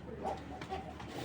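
A racing pigeon gives a soft, brief, low coo that is faint and close, against quiet background noise in a loft.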